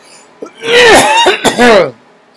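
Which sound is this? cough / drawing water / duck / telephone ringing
cough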